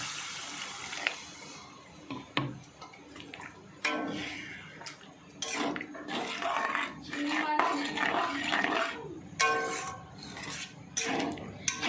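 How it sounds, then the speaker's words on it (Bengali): Water pours into a cooking pan of sautéed taro stolon and river morola fish curry, a splashing, gurgling stream with clinks of utensils against the pan, close by and fairly quiet, with some voice in the background. "এবার আমি পরিমাণ মতো জলটা দিয়ে দিচ্ছি"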